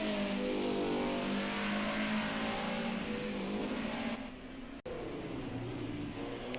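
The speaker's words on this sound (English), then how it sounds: "You can just hear as he tried to accelerate, that car did sound like it bogged down there." A race car in a sim racing game at the Circuit of the Americas revs steadily, then bogs down after a missed gear. The engine note stays loud and close and dips briefly near the end before pulling again.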